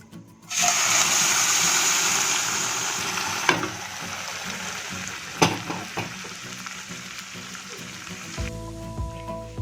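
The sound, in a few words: boiled lentils added to hot pan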